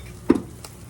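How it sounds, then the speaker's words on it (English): A spoon stirs ground meat seasoned with salt and black pepper in a pan, making a single soft scraping stroke with a faint second touch, close and quiet over a low background hiss. "Now, let's get that stirred in a little bit."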